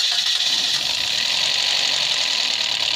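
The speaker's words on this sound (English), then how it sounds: "Let me just crank the vehicle over." A 2015 Mitsubishi Lancer engine with excessive tailpipe smoke, after piston, thermostat and guide replacement, cranking over steadily and loudly for a few seconds to build oil pressure, a continuous mechanical drone with no voices.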